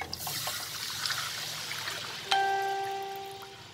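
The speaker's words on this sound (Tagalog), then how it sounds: "Lalagay ko na ang gata." Coconut milk, made from one grated coconut pressed with water, pours in a steady trickle into a simmering pot of sweet and spicy crab over lowered heat, followed by a sharp clink and a faint ringing tone, close and alone.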